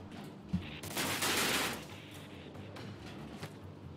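Burst of automatic gunfire in the Mafia 2 video game, a rapid crackling volley followed by scattered single shots over a steady background din.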